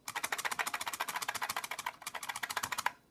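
Rapid, sharp clacking keystrokes on an IBM Model M buckling-spring keyboard in a quick, steady rhythm, loud and close, with a brief pause before more typing and a final heavier key press.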